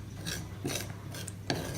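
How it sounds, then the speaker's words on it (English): A spoon scrapes and stirs through a thick corn flour slime mixture in a bowl, giving a few soft rasping strokes close up with no one talking. "grab it with a spoon and just add in more corn flour. And give it another stir."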